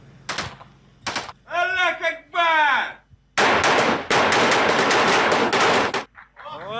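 Bursts of automatic gunfire rattle loudly in rapid sequence in a war zone, interrupted by short shouted voices, then a long sustained volley of shots.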